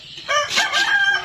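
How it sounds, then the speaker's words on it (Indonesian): A rooster crows loudly and close by in a single drawn-out call, heard outdoors at a roadside tom yam food stall in Binusan. "Itu dengar ayam kokok nggak?"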